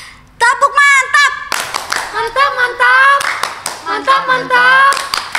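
Children at a Sunday school service doing a 'tepuk mantap' clap routine, loud chanted and sung voices over rhythmic bursts of hand claps, close and lively.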